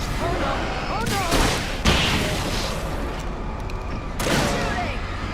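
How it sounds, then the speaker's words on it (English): Heavy gunfire and booming blasts in Alan Wake Remastered, loud, sustained and layered with mechanical clatter and rumbling impacts, with voices breaking through in places. "Shooting!"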